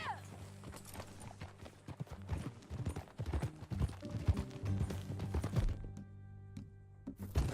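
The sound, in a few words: horse hooves trotting, from a video game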